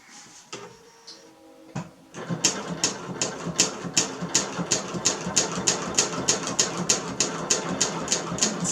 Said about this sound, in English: setting my machine to free motion quilt around these